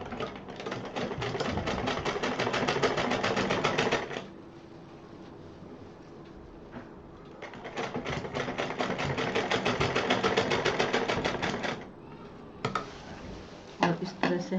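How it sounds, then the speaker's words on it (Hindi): A sewing machine stitching over a zipper on a DIY stylish purse, running in two long rapid bursts of dense mechanical whirring separated by a pause, then a few short stitches near the end. "अब जिप के ऊपर से इसको हम सिलना शुरू करेंगे"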